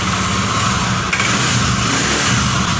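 A motorcycle engine running on test after replacement of its clutch plates makes a steady, loud, close mechanical drone. The pitch stays fairly even with only a slight swell in revs, and no voices can be heard.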